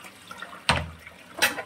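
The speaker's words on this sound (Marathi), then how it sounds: "तिथून खाली गळून जाते ते पाणी" Water splashes over washed pots and dishes and drains through a mesh dish rack in two short, close gushes about a second apart, with a faint hum in between.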